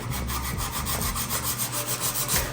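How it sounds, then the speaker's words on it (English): Nail file rubbing back and forth across a fingernail, close and steady raspy strokes repeating in a quick even rhythm with no voices. "We're gonna file it this way."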